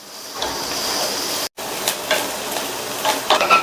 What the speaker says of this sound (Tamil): வெங்காயத்தை 1 நிமிஷம் போல வதக்கிக்கணும்